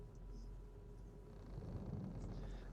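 A cat purrs steadily at close range, a faint, low, continuous rumble that swells slightly near the end, with no other sounds.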